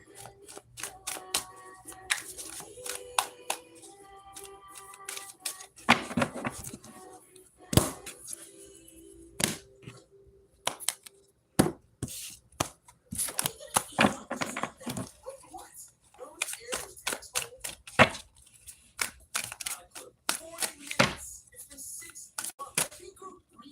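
A deck of tarot cards is shuffled by hand in a quiet room, giving sporadic bursts of crisp riffling and slapping clicks, with a person talking between and over the shuffles.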